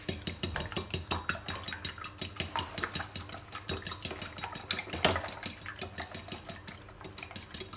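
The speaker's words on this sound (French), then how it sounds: "on mélange" A utensil stirs spinach and goat cheese quiche filling in a bowl, making steady, rhythmic scraping strokes that repeat close up, with no one talking.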